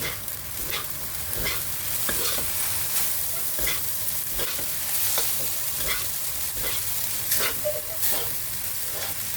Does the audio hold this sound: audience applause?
no